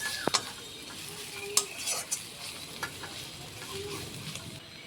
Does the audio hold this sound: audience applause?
no